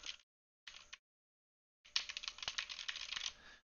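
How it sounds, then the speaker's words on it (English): Soft keys clatter on a quiet computer keyboard in short bursts separated by silence, followed by a longer, faint run of rapid typing. "This is me typing on the keyboard"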